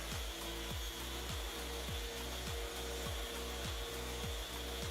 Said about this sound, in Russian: Так по очереди прохожу все щиты шлифмашиной с наждачкой 120 с двух сторон.